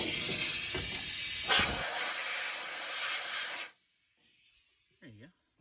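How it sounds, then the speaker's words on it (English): Compressed air blasts loudly and steadily, blowing crud off bolt threads on a 1984 Dodge W350 truck, rising in force midway before stopping abruptly. A brief low voice follows. "I like to take a little compressed air and blow that off."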